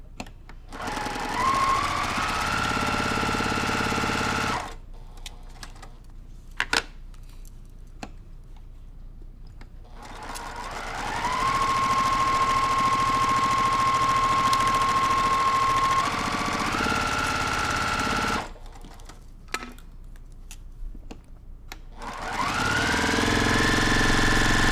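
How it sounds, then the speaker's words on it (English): A sewing machine runs in long sustained stitching passes through quilt fabric, three loud steady bursts separated by quiet pauses with faint clicks and handling noises. "And then I'll just sew down this line."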